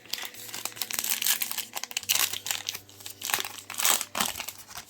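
Plastic foil wrapper of a Star Wars trading card pack being torn open and crinkled, close and quiet, with bursts of crackling over several seconds.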